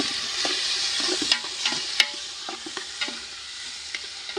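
Sliced onions sautéing in a hot pan until golden, with a steady bright sizzle and repeated scraping clicks from stirring spread across the whole stretch.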